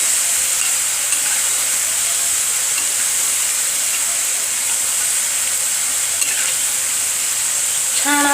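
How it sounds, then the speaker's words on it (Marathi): Pieces of kapnya dough fry in hot oil with a dense, even sizzle and hiss that carries on close and strong throughout. A faint clink comes near the end, and nobody speaks. "तेलामध्ये आपण आता कापण्या सोडून घेऊया"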